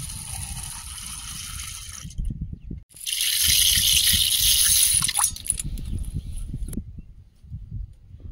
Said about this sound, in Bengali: মটর ডালটা গরম জলে ভিজিয়ে দেবো, একটু ফুলবে।